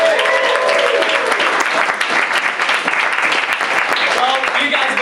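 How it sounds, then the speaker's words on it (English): A comedy club crowd claps loudly and continuously, a dense close-up burst of applause with a few scattered cheers, lasting around five seconds with no talk over it. "Another round of applause for them."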